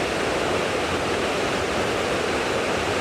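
A waterfall pours in a steady, dense roar of rushing water, close and constant throughout, with no voices.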